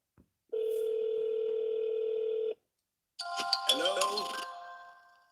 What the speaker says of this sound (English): We got to go to dial 89350.